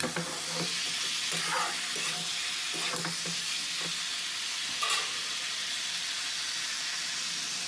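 Cauliflower and potato pieces are stir-fried in a karahi on a gas stove, a steady sizzle and hiss broken by repeated scraping clicks of a spatula stirring the vegetables, close and without talk.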